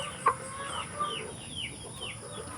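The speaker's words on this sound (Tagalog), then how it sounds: "istorbo tong mga na ito, mga manok" Free-ranging chickens cluck in short, scattered calls at a morning feeding among goats and muscovy ducks, with a sharp louder cluck near the start and faint farmyard background throughout.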